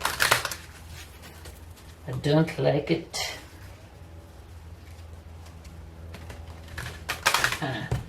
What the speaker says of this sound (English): I will do a little bit of shuffling here